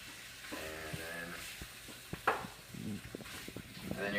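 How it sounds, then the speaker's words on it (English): Ground meat sizzles in hot oil in a skillet while a turner mashes and stirs it, a steady close frying hiss with scraping pushes and a voice talking over it. "And then you're going to let your meat cook for a while."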